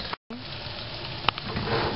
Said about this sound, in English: heat it up in this leftover oil. You don't want to burn the garlic, it's too nasty. So make sure you mix it around a lot.